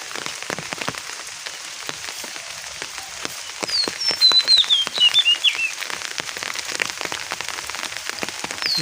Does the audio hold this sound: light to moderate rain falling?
yes